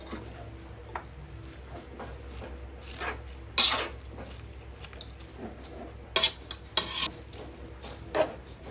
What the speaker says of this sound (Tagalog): Kailangan mahalo ito.